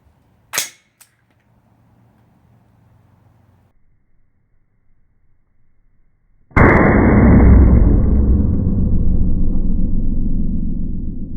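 A rifle fitted with a 3D-printed Centricore dual chamber muzzle brake fires: a sharp crack early on, then after a quiet pause a much louder blast whose boom rolls on and decays slowly for several seconds.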